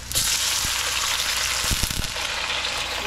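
Tomatoes frying in a pan for Filipino sarsiado, a loud, steady sizzle close up with a few sharp pops and stirring clicks.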